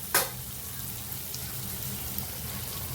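Tomatoes sautéing in hot oil in a pan for dal palak give a steady, soft sizzle throughout, with one brief sharp clatter near the start and no voices.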